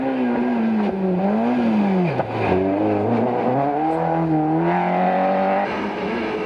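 A Peugeot 309 GTI rally car on a stage of the 1990 Circuit of Ireland Rally, engine loud and close, revving up and down through gear changes with a steady rasping drone.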